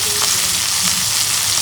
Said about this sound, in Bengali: আমি মশলাগুলো কষে নেব